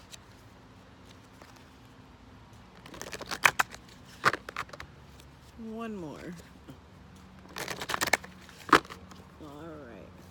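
Tarot cards being shuffled in bursts of rapid riffling and crisp slaps, with two dense flurries and a few single snaps, close by, while a person speaks briefly.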